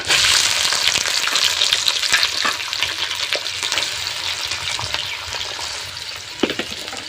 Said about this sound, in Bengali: এবারে আমি দিয়ে দিব পেঁয়াজ কুচি